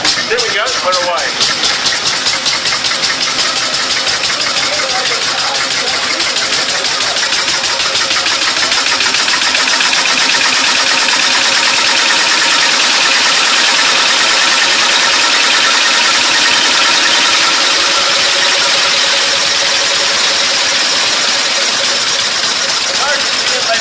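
An old stationary engine runs steadily after starting, a loud, continuous mechanical chugging with rapid regular beats that holds even throughout.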